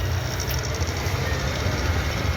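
Steady rumbling roar of a train near Shivajinagar railway station, loud and continuous with a low rolling body and faint high hiss, no talk over it.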